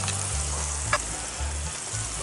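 Corned beef sears in a lidded pan on a Weber grill, giving a steady close sizzle and crackle with a faint low hum underneath and one brief sharp pop, no talking.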